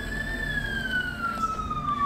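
An ambulance siren in a Game of Thrones video game plays a single loud, steady tone that slowly slides downward in pitch, with a low rumbling background beneath it.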